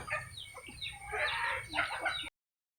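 Chickens in a backyard coop cluck and squawk in short, close bursts over a low background hum, ending abruptly after about two seconds.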